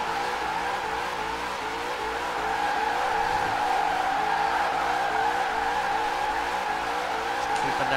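A 1968 Mustang GT drifts in Forza Horizon 4, its engine droning at high revs beneath a continuous squeal of sliding tires, steady and loud throughout with a slight swell midway; no talking.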